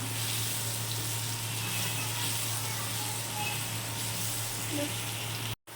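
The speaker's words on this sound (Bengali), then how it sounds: "হলুদ দিয়ে দিলাম দিয়ে আলুটাকে ভালো করে নাড়াচাড়া করে নিচ্ছি" Turmeric-coated potatoes frying in hot oil for a Bengali muri ghonto, a steady close sizzle with soft stirring underneath, cut off abruptly just before the end.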